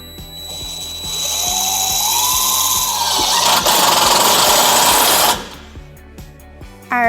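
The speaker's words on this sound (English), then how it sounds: "We are going to use a 4-flat mounting bracket with our provided self-tapping screws." Power driver sinking self-tapping screws through a trailer wiring mounting bracket above the hitch of a 2009 Chevrolet Colorado, a loud steady whir with rising pitch and grinding that ends abruptly, followed by a few light clicks.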